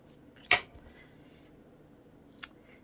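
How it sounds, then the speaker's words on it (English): Scissors snip paper during collage work on a small card: one sharp, close cut, then a second quieter snip about two seconds later, with faint background in between. "I will snip this off"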